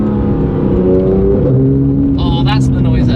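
A hard-driven car's engine roars loudly and steadily with shifting pitch, the note dropping and rising as it works, with a brief burst of voice near the end.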